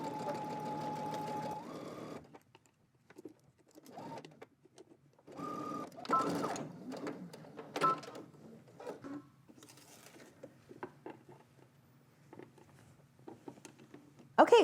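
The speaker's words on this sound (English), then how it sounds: "now you're gonna go to your sewing machine, you're gonna stitch starting on this end" A sewing machine runs in a quick stitching burst, then stops; scattered handling clicks and faint movement follow, with brief bits of quiet activity.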